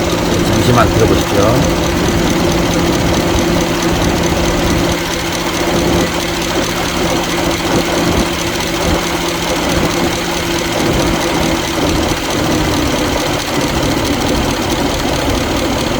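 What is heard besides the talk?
Genesis EQ900 5.0L engine cooling fan running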